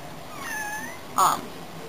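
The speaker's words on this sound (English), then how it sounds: "be quiet, kitty." A pet cat meows twice: a soft, drawn-out, wavering meow, then a sharper, louder cry close by over faint room noise.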